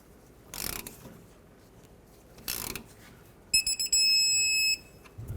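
Torque wrench tightening the banjo bolt on a 2012-2014 Ford F-150 rear caliper to 30 foot-pounds, a couple of soft ratchet clicks and then a shrill electronic beeping alert.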